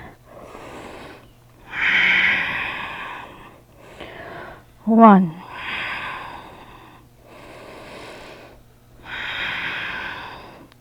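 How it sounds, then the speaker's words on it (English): Audible yoga breathing held in downward facing dog, slow long hissing inhales and exhales repeating in an even rhythm, with a brief spoken count near the middle. "breathing with sound"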